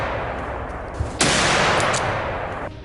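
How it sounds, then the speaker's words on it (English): A rapid burst of gunfire aimed at wild boars erupts after a single sharp crack, becoming a loud, dense, sustained volley for about a second and a half before cutting off. "a rapid burst of gunfire erupts, taking down the two fattest beasts"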